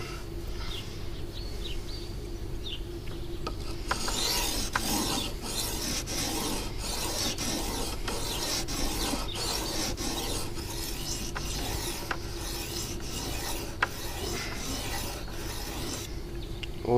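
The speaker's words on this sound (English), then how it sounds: "these stones also work incredibly well at getting you a burr really quickly" Knife blade being sharpened on a Fallkniven DC521 sharpening stone, a steady run of rhythmic rasping strokes close up, starting after a few quiet seconds of background hum.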